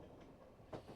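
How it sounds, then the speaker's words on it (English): Train clanking along the rails in an otome video game: a steady low rumble of a moving railcar with soft rhythmic clacks, one sharper clunk near the end, no voices. "jostled along with the familiar sound and vibration of the train"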